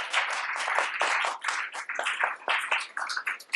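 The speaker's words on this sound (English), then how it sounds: "You might applaud them, in fact" Audience applause at a historical society archive program, a steady wash of many hands clapping close by, continuous throughout with slight swells and dips, no voices over it.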